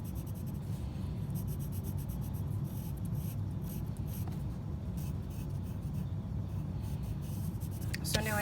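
Paper being burnished to transfer a pencil design gives a soft, continuous rubbing scratch with faint repeated strokes, alone and close, ending in a brief paper rustle.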